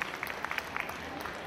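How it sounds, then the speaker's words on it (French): Scattered, fairly faint clapping from an audience after a Japanese tea ceremony demonstration at a chocolate fair, sparse individual claps rather than a full ovation. "encore des applaudissements s'il vous plaît pour cette cérémonie du thé"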